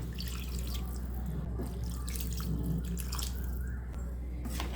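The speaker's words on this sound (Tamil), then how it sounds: "தேவையான அளவுக்கு தண்ணி ஊற்றிக்கலாம்." Water poured into mutton gravy in a pressure cooker, a steady trickling and splashing heard close and continuous, with no talk.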